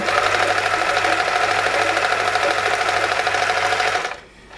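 A Privileg 865 sewing machine running an overlock stitch, a loud, steady, fast mechanical chatter close by that keeps an even pace and then stops abruptly near the end.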